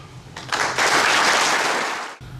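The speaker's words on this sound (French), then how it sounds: "On peut t'applaudir" An audience at a New Year's wishes ceremony in Moret-sur-Loing applauds in tribute, a dense, loud burst of clapping rising after a brief lead-in and carrying steadily for about two seconds before cutting off.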